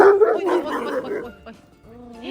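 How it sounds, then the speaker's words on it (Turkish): Large dogs, including a wolfdog, barking close by on a horse farm in rapid, overlapping bursts as they fight, with a woman's repeated exclamations mixed in. "Ay havlıyor köpekler."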